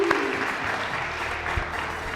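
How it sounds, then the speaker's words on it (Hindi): A studio audience at a TV talent-hunt game show claps in a sustained, fairly loud round of applause, a steady crackle of many hands with a brief voice-like tone at the very start. "बहुत सारी तालियां भाई।"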